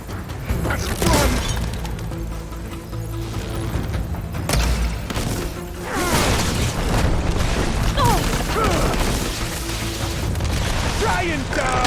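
Heavy cannon booms and crashing blasts in a Horizon Forbidden West battle, repeated loud impacts amid combat noise and a swelling game score, with characters shouting over the fighting.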